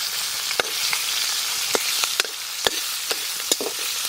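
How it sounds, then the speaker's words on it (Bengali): Drumstick stalks sauté in hot oil with dry red chilli and black cumin, giving a continuous bright sizzle broken by sharp spatters and clicks of a spoon stirring the pan, close up and without talk. "সজনের ডাটাটারে সুন্দরভাবে কষায় নিছি"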